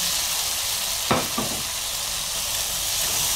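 Chopped tomatoes hitting a pan of browned garlic and onion, giving a steady frying sizzle with a couple of short clattering stir sounds near the start, close and continuous with no talking.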